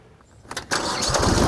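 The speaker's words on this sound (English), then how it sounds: "hard at work on the tractor, spreading manure, getting his field ready" A farm tractor's engine, working a field while spreading manure, catches and surges up to a loud, steady close running roar after a few brief knocks.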